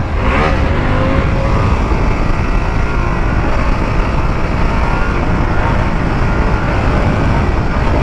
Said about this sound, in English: this thing, like, it just revs out and it just gets faster as she revs